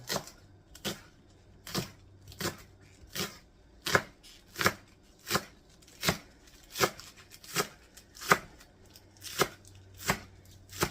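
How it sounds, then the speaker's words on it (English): Green onions chopped with a knife for Thai sweet and sour chicken, steady rhythmic blade strikes on a cutting board, about sixteen crisp close chops evenly spaced, with no talking. "We need some green onion. I'm going to chop those up too."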